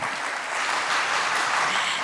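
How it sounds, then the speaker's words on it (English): An audience at the Mahatma Gandhi Memorial Lecture for the International Day of Non-Violence applauds with dense, sustained clapping that fills the whole stretch evenly, with no one speaking over it. "Let us welcome, Dosto, another round of applause for Dr. Kamla Dhyani."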